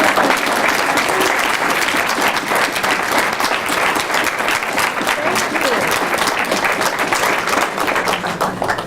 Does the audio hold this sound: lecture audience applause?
yes